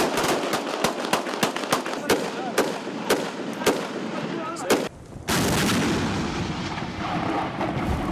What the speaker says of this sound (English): Airstrikes targeted Gaddafi's forces, destroying tanks, bases,